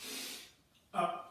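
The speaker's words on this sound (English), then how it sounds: "I'm going to breathe in." Sharp breaths during a barbell squat, a long hissing exhale followed after a short pause by a quick forceful gasp, close and alone without speech.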